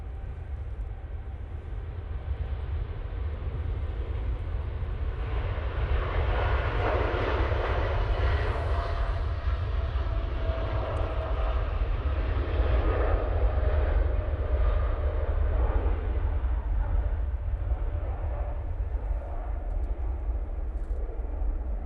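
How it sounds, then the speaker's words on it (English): A TUI Boeing 787-9 Dreamliner taking off from Manchester Airport, bound for Bridgetown: a loud, continuous jet engine roar with heavy low rumble that swells in the middle and holds steady, heard from a distance with no voices. "There goes TUI Dreamliner off to Bridgetown using the 787-9 Dreamliner."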